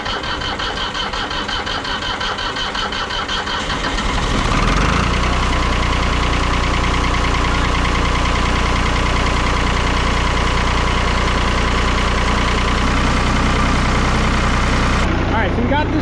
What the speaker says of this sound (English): Kubota diesel I just rebuilt. I have never fought so hard with an engine to get the thing to run.